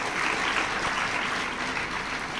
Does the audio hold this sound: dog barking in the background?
no